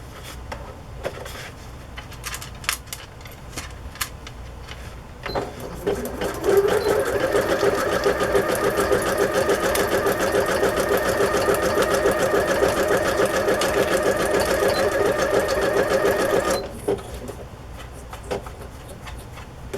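A new sewing machine stitches card journal pages, running in a steady rapid whirring rhythm for about ten seconds between quieter handling clicks and rustles.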